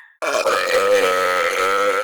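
A single long, loud, close human burp lasting nearly two seconds, starting abruptly after a brief quiet moment.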